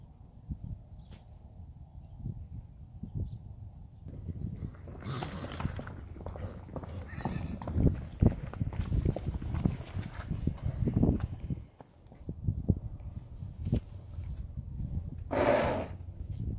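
Herd of horses, including a 25-year-old gelding, moving about nearby with irregular hoof thuds, snorts and heavy breathing, plus a couple of short bursts of louder noise, no speech.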